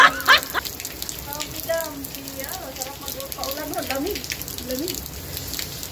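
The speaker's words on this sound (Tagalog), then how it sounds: "malakas ang agos na yun kasi yan para galing sa taas ang tubig" Steady rushing rainwater pours down from above throughout while a person talks over it, the strong flow hissing and splashing close by.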